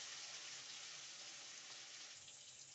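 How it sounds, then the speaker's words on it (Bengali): Chicken pieces fry with onions in a pan, giving a steady, faint, hissing sizzle that stays even throughout without pauses. "মাংসটা ভালো করে আমি ভেজে নেব।"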